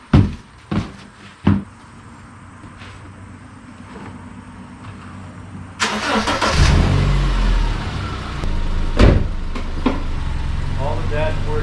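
A 2009 Subaru Outback engine while driving: clicks and thumps at first, then from about six seconds a loud, steady low engine and road rumble that swells and holds, with occasional knocks and rattles over it.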